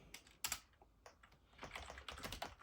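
Computer keyboard being typed on while entering a file-copy command for twin floppy drives, a quiet, irregular patter of close keystrokes with a few sharper clacks.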